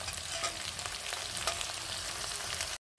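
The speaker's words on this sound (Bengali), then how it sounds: "আলুটা আর কচুর মুখিটা আমি সুন্দর করে ভেজে নিয়েছি লাল লাল করে" Potatoes and taro pieces frying in a pan until reddish, a dense steady sizzle with faint stirring taps, close by, ending abruptly in silence; no voices.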